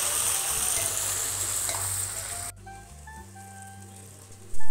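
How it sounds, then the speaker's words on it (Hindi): Onion paste frying in oil inside a pressure cooker, a steady loud sizzle that suddenly drops quieter midway, then continues more softly with a brief clatter near the end; no one speaks. "अब हमें इसमें प्याज का पेस्ट डालना है और इसे अच्छे से फ्राई होने देना है"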